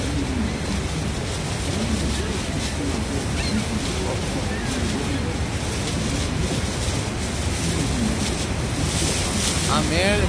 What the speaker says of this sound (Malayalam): ഇതായിരിക്കും ഏറ്റവും വലിയ വെള്ളച്ചാട്ടം.